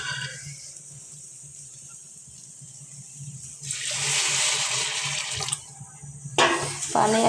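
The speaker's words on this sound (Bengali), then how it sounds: "চালটা ভাজা হয়ে গেছে, পানি দিয়ে দেবো।" Water poured from a vessel into a pan of rice being fried for pulao, a broad hissing splash starting midway and running several seconds, then a brief second pour near the end, close and fairly loud with no talking.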